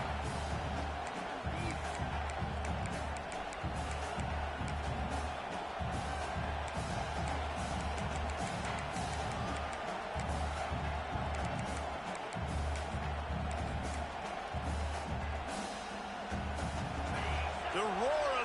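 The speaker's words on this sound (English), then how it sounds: "The roar of the crowd trying to fuel this defense to keep them pinned in their own end." Steady roar of a stadium crowd in a Florida Gators college football video game, a constant broad wash of noise lasting throughout, with play-by-play commentary talking over it.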